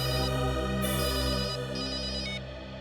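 Electronic ringtone chiming continuously with a tonal, layered melody, fairly close and steady, fading slightly at the end.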